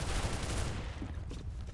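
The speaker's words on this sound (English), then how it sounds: "Bullets whizzing back." Rapid gunfire from Counter-Strike: Global Offensive in Arms Race mode, a dense burst of shots and bullet noise over about two seconds with no voices.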